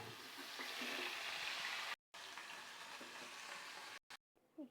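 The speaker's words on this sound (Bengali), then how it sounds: "এই তেলের দিকে মাছের মাথাটাকেও ভেজে নেব।" A fish head frying in oil gives a steady, faint crackling sizzle that runs continuously, cut by two brief gaps of silence near the end.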